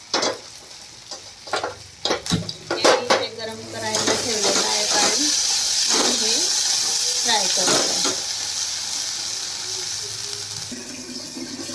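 Vegetable masala sizzles in a pan while a spoon scrapes and clinks against metal. A voice is heard partway through.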